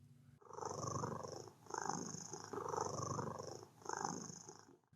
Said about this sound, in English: It was purring.